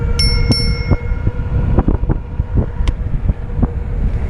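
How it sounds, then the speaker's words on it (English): Two quick bright metallic rings of an e-bike's bell near the start, over steady wind rumble and road noise while riding. "Got a bell."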